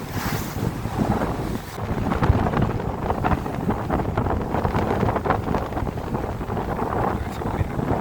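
Strong wind roars steadily across a cruise ship at sea, a constant loud rumble with some boat and water noise and no distinct pauses.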